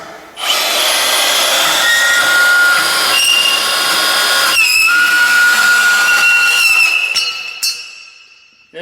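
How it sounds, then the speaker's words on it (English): A Milwaukee Portaband portable band saw cuts through material with a loud, close, sustained high whine and grinding buzz that runs for several seconds before spinning down, with no talking. "As you can see, the Portaband rips right through that."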